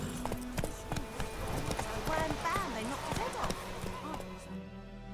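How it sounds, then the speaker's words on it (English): A horse's hooves clip-clop in a quick, steady rhythm in The Witcher 3 video game, loud and close throughout, with voices talking over the hoofbeats. "Whoa there, Roach"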